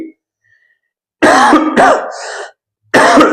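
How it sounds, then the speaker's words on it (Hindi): A teacher in a Hindi grammar lesson gives a loud, harsh cough close to the microphone, then a throat-clearing burst. A second short cough follows after a brief silence. "सॉरी, खांसी हो गया"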